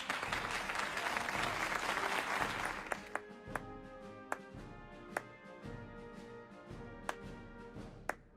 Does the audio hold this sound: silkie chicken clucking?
no